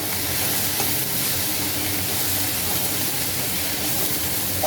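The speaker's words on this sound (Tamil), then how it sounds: "இது நல்லா வதங்கணும்" Onion and tomato sizzle steadily in a frying pan while cooking poori masala, a continuous loud, close hiss with faint stirring scrapes throughout.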